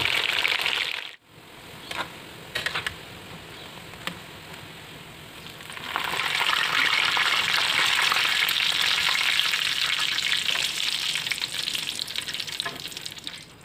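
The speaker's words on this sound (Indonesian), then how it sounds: "lalu goreng hingga matang" Nuggets frying in a pan of hot oil, a steady close sizzle that swells loudly after a quieter, clattering start and keeps crackling evenly to the end.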